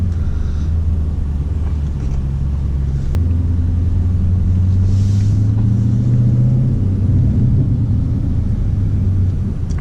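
A Dodge Challenger or Charger with an automatic transmission pulls out of a gas station, a loud, close interior engine rumble with the low drone rising and shifting in pitch as it gets moving.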